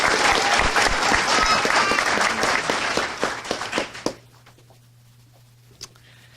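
Dense applause from an audience at a university fall academic convocation, loud and continuous, then thinning into a few scattered claps before quiet room tone.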